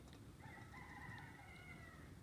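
A rooster crows in the morning outdoors, one drawn-out call that sounds faint and distant over a steady background hum.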